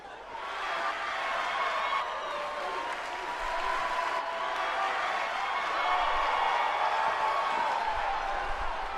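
A packed wrestling arena crowd in WWE 2K19 applauds and cheers in a steady roar that swells and holds, with a voice speaking over it.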